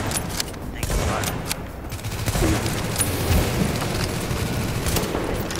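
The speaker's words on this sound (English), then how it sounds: "Shotgun to the face." Dense rolling gunfire and booming blasts from a firefight in the shooter game The Division, loud and continuous throughout, with shotgun blasts buried in the barrage.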